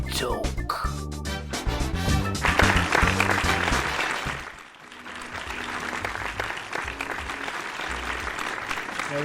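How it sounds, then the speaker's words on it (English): Canned applause effect for a Formula 1 podcast segment: a swelling crowd clapping rises over a short musical sting, dips briefly, then continues steadily at moderate volume. "let's wait for that extensive applause to die down"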